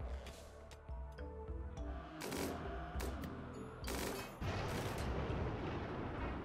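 Rapid gunfire in the video game Rimworld, with repeated sharp shots and small volleys over a steady rumbling game soundtrack, moderately faint and without talk.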